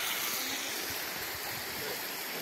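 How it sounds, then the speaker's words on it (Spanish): The Mayo river at Mesa Colorada flows in a steady broadband rush of water, close and continuous with no talk. "Ahí está el agua"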